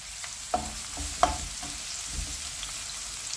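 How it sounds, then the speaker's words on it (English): Cumin seeds frying with onions in a pan, a steady soft sizzle broken by a few sharp pops and clicks, close by with no talking. "to the onions I'm going to add half a teaspoon of cumin seeds. We want them fried off at the start."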